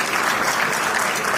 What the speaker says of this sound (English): I do want you to give a big round of applause for all of you for coming here.